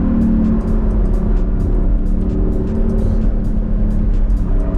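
A C8 Corvette Z51 with track alignment accelerating hard on the Streets of Willow race track, its engine a loud, steady low roar heard close from inside the car throughout.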